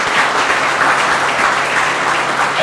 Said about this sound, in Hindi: जोरदार ताली दे यीशु को।